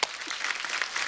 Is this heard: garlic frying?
no